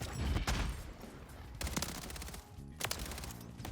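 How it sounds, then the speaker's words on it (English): Rapid automatic fire from the FJX HORUS submachine gun in Modern Warfare 3, loud bursts of gunfire with short pauses between volleys and game sound effects mixed in, no talking. "FJX HORUS is the brand new SMG in Modern Warfare 3."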